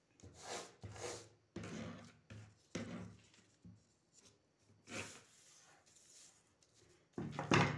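Scissors snip through blouse pattern paper for a size 36 princess-cut blouse in short rasping bursts, with soft rustling and handling of the sheet between cuts, close and fairly quiet.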